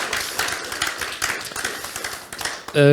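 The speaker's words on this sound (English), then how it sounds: "So let's give a round of applause for Tadas" A conference audience claps after a presentation, a dense patter of hand claps that fades toward the end.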